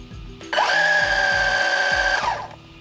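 An RC model motor, fitted with freshly swapped Boca bearings for a break-in run, spins up sharply to a loud, steady high-pitched whine at max RPM, holds it for about two seconds, then winds down.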